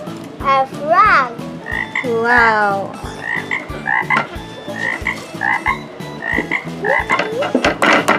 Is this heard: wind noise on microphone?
no